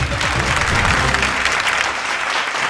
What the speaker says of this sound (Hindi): एगो जोरदार ताली